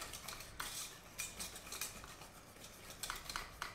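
Brookie batter with vanilla sugar being stirred in a bowl, a metal utensil scraping and clinking in quick repeated strokes, fairly faint and close, with no talking.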